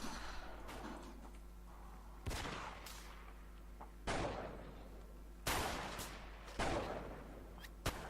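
Musket volleys in a Blood & Iron line battle video game, a crackling burst of several shots at the start followed by four loud, sharp reports spaced a second or two apart, each with a rolling tail, over steady low background noise.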